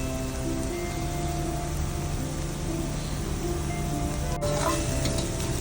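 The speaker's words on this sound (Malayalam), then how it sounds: "സവാളൊക്കെ നല്ല ഗോൾഡൻ കളർ ആവണ വരെ നല്ല നമുക്ക് വഴറ്റി കൊടുക്കാം" Onions with curry leaves and salt sautéing in a pan until golden, giving a steady, dense sizzle throughout with faint stirring scrapes and a brief clink near the end, no talking.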